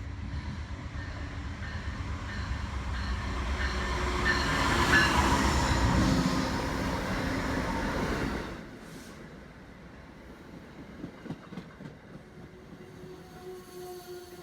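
Amtrak Cardinal passenger train approaching a station: a rumbling roar of wheels and cars that swells for several seconds and then drops away, leaving faint distant rail clanks and creaks.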